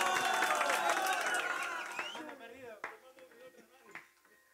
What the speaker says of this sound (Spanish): Los aplausos aquí para el amigo